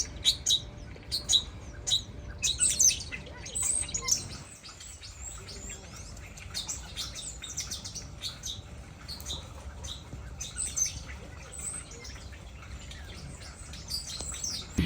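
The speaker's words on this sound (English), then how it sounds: "behind me here is a very cool little bird sanctuary with a bunch of birds that we've never seen" Many small birds chirp and tweet in quick, overlapping bursts at a bird sanctuary in Switzerland, the calls bright and near at first, then sparser and fainter over a soft background hum.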